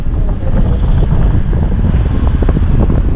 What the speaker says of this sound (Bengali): প্রচণ্ড হাওয়া চলছে ভীষণ হাওয়া চলছে এত হাওয়া চলছে